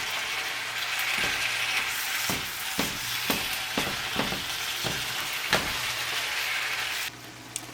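Vegetables being stirred into sizzling meat in a pan for tater tot casserole: a steady frying hiss runs throughout, broken by a series of sharp spoon scrapes and clacks against the pan.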